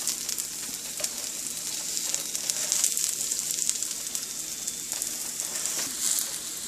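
Fenugreek potato paratha sizzles steadily on a hot pan, a continuous close crackling fry with brief louder flare-ups as the flatbread is turned with a spatula.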